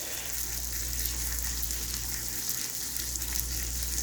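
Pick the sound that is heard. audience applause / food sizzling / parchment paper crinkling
food sizzling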